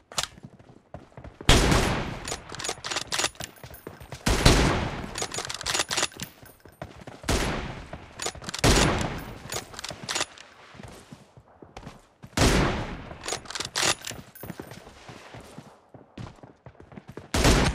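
Rapid automatic gunfire in the mobile shooter PUBG Mobile, loud close bursts of shots repeating in clusters with short pauses between them, mostly alone without talk.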